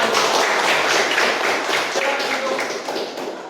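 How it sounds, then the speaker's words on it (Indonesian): A crowd gives steady applause, dense clapping from many hands that fills the whole stretch, loud and close and fading a little at the end. "kita beri tepuk tangan semuanya"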